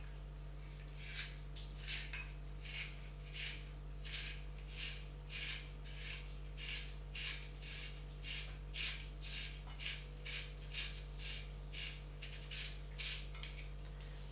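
A zoodle slicer spiralizing vegetables into pasta: about twenty rhythmic rasping strokes in steady succession, close and fairly quiet over a constant low electrical hum, with no talking.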